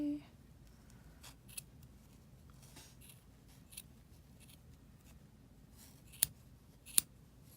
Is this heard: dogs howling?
no